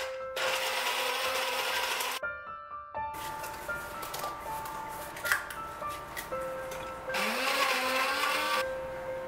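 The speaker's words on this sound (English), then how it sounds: "Next, grind walnuts into a paste of 1/2 cup" A blender grinds walnuts into a paste with a loud, droning whir that starts and stops in several bursts, shifting pitch as it runs, with a brief quiet gap between runs.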